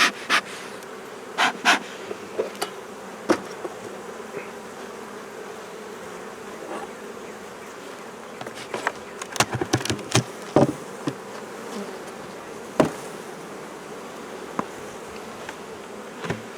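Honey bees buzz steadily around a hive, a dense insect hum, with scattered sharp knocks and taps throughout.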